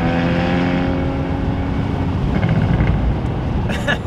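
A Porsche Boxster Spyder with a 6-speed gearbox driving through the Scottish Highlands, its engine a loud steady drone heard from close by, with a brief rise and shift partway through and a short rattle near the end.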